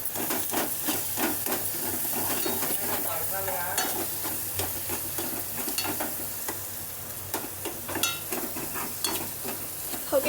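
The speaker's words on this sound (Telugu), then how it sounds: "ఓకే గైస్, ఇదంతా మంచిగా స్టఫ్ ఏదైతే ఉందో అదంతా మంచిగా ఫ్రై అవుతుంది అన్నమాట." Potato stuffing frying with onions and chilli in a pan, a steady close sizzle and hiss broken by repeated scraping stirs, with no talking over it.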